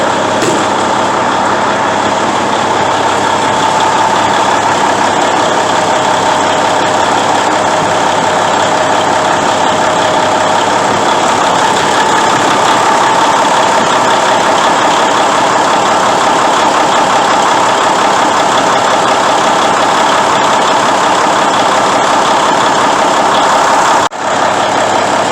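A Cummins N14 Celect Plus diesel engine idles close and loud with a steady, even rumble that holds for the whole stretch, ending with a brief knock near the close.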